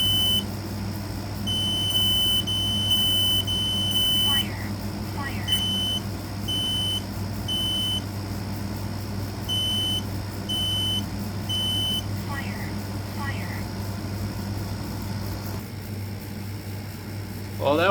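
A Kidde I12010S smoke alarm sounds during a system test, giving high-pitched beeps in short bursts and grouped patterns over a steady background hum, with pauses between groups.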